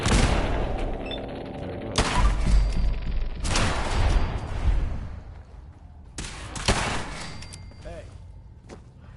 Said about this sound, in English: Combat initiated. It's a Mark 1 turret.